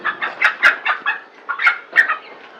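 A chicken clucks in a quick run of sharp, loud, close calls, about eight bursts in under three seconds, with no talking.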